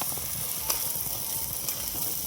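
Tempering dals for khichdi fry in hot oil, making a dense, steady hiss with a faint irregular crackle and a couple of small knocks, close and fairly loud throughout.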